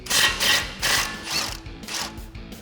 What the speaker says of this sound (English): Grab an 8 millimeter socket and remove the smaller bolt.